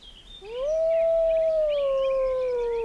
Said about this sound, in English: She barks out an alarm.